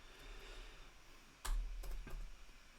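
Faint keyboard typing: a few quiet, separate key clicks over low background hiss, with no talking.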